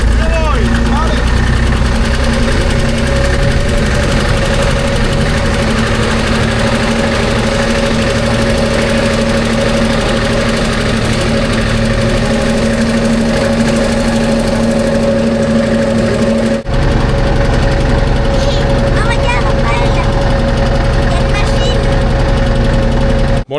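A small old tractor engine runs close and loud throughout, a steady low knocking drone with a firm rhythmic thrum that shifts pitch briefly partway through; a voice can be heard under the engine.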